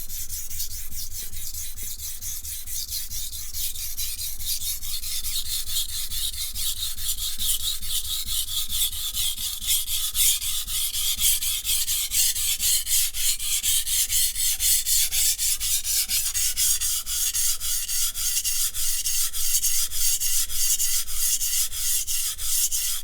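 A knife with an asymmetrical factory bevel is drawn steadily across a sharpening stone, giving a loud, continuous gritty rasp with a fast repeating stroke rhythm, close up and with no voices.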